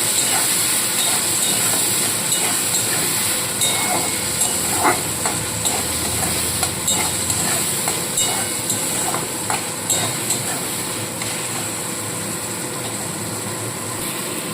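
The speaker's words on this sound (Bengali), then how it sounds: "ক্যাপসিকাম আর কড়াইশুটি দিয়ে দিয়েছি একটু হালকা ভাজা ভাজা করে নেব" Capsicum and green peas fry lightly in a pan for a vegetarian matar paneer, giving a steady close hiss and sizzle with occasional stirring clicks throughout.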